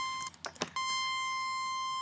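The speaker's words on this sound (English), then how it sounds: "A VA PWM, pulse width modulation." A steady virtual-analog pulse width modulation synthesizer tone in Massive, with a buzzy, hollow pulse character, sounds alone, briefly interrupted by a couple of soft clicks before resuming.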